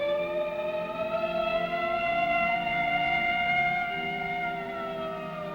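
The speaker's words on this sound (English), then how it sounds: "I heard the ambulance coming." An approaching ambulance siren wails, droning steadily with a slowly falling pitch, fairly loud at first and fading a little toward the end, with no talking.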